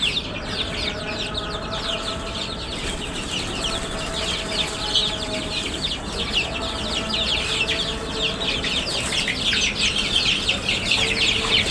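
Broiler chickens leaving a cage cluck and chatter in a dense, busy chorus, with repeated calls overlapping close by and a few wing flaps, steady for about twelve seconds.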